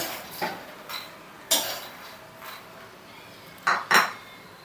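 Roasted lotus seeds are moved from a pan into another metal vessel, producing several sharp clinks and scrapes of metal at irregular intervals, close by over a quiet background.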